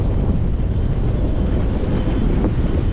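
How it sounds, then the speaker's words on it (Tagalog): Big sea waves and strong wind batter a small fishing boat, a loud continuous roar of wind buffeting the microphone over surging water. "Grabing alon, no?"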